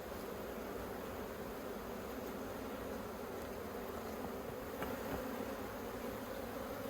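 Honey bees drone in a dense, continuous buzz around an opened hive showing chalk brood outdoors in Australia, close and steady throughout with no talk.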